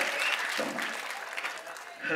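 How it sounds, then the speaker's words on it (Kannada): A burst of clapping from a group at a film title launch event, brisk and fairly close, fading slightly toward the end. "ಜೋರ್ ಚಪ್ಪಾಳೆ ಬರದು."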